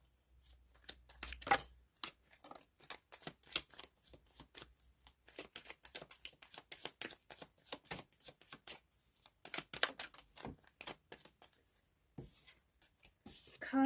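Tarot cards riffled and handled in quick, dense bursts of crisp flicks and slaps, close and fairly quiet, with brief pauses between flurries.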